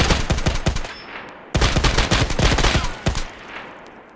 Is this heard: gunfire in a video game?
yes